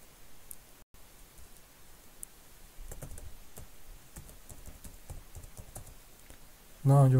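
Computer keyboard typing a terminal command to create a directory, with soft irregular clicks in a quiet room that grow denser partway through before a louder burst at the end.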